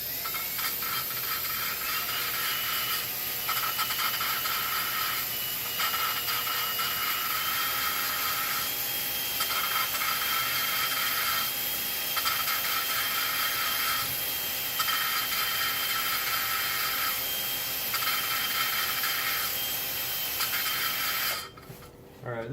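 A power drill whines steadily at a high, sustained pitch during work on an Integra being turned into a pickup, running continuously with periodic pulses and cutting off near the end.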